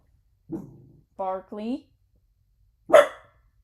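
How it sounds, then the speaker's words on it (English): A pet dog barks near the microphone during a game stream: a short burst of separate barks and a yelp, loud against an otherwise quiet room. "we're not starting the stream with barks"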